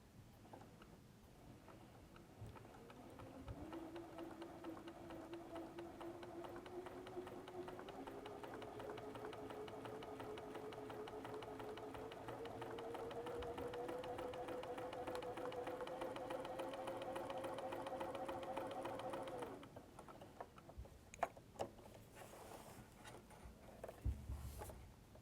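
Sewing machine fitted with a walking foot stitching in the ditch along a quilt seam, a steady mid-pitched motor hum with rapid needle ticking that rises slightly in pitch, runs continuously for about sixteen seconds, then stops, leaving a few faint clicks.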